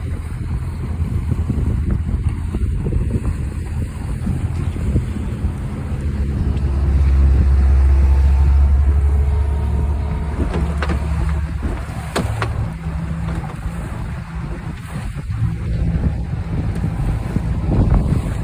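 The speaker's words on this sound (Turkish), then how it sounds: "Denizde dalga ve çalkantı var." Continuous rumbling motorboat noise on a choppy sea, with heavy wind buffeting the microphone and sloshing waves, loud and steady throughout with no voices.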